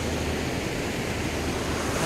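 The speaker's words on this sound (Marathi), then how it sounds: "हे पाणी शेतीतून वाहतंय। खळखळत खूप आहे या पाण्याला।" Steady broadband rush of water gushing and babbling through channels in open farm fields near Rajgad Fort, constant and close with some wind noise on the microphone, no voices.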